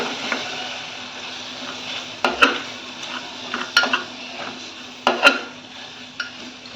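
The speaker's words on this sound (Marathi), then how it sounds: "तर आता हे सर्व मसाले आपल्याला तेलामध्ये एकदा परतून" Garam masala and coriander-cumin powder sauté in hot oil for a Malwani black-eyed pea usal. A spoon scrapes the pan with several sharp metallic clinks and clanks over a low, steady sizzle, close and fairly loud.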